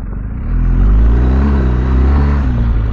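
A BMW R 1250 GS Adventure motorcycle accelerating on loose off-road terrain, its boxer engine rising into a loud, steady rumbling drone close by, with wind buffeting.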